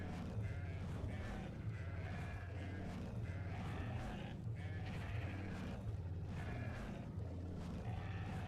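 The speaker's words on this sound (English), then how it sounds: "Come on, you dumb sheep." Sheep bleating in the game Ark Ascended, a steady run of nasal bleats layered over constant game background noise, with no talk.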